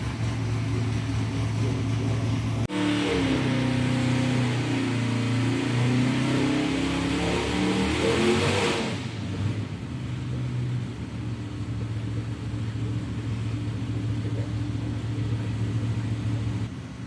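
A custom 302 small-block Chevy V8 built for 9,000 RPM, fitted with a custom intake, running on an engine stand during timing setup. It gives a loud, steady rumbling idle with a rising rev surge midway, then settles back to a continuous drone.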